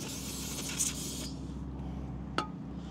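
A spray can hisses in a short burst that fades out during a front brake pad and rotor replacement on a Land Rover LR4/LR3, followed by a faint sharp click.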